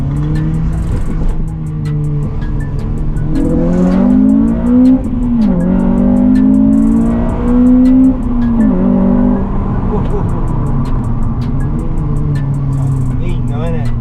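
Honda Civic Type R FN2 fitted with an HKS intake and Tegiwa exhaust, its engine revving up and settling back in a loud close rise and fall, with a steady idle throughout and voices talking over it.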